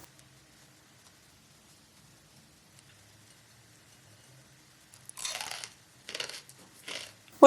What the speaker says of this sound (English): I like to snack on some crunchy nuts, or in this case, corn.